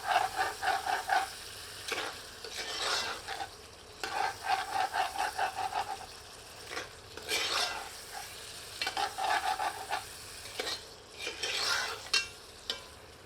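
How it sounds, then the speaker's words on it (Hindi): Chicken sizzles over high heat as its excess juices cook off for a Champaran-style chicken taash, with repeated bursts of close spatula scraping and stirring in rhythmic clusters over a soft frying hiss. "इसमें उपलब्ध अतिरिक्त रस को तीव्र आंच पर सुखा लेते हैं।"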